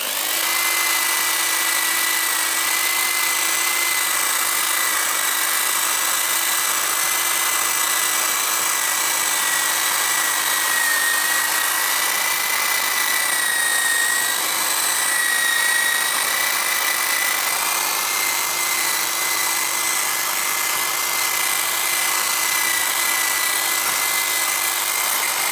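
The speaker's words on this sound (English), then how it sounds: "wire brush on a drill, as always" A wire brush spun on a drill scrubs a CIS fuel injector from a Porsche 928, giving a loud, steady high-pitched whine with a gritty scraping edge that runs unbroken the whole time, close up and with no talk.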